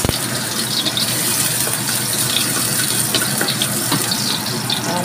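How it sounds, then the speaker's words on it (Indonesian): Water poured into a cooking pot with crushed garlic and ginger, a steady close gushing splash lasting the whole time, fairly loud and unbroken. "tambahkan air"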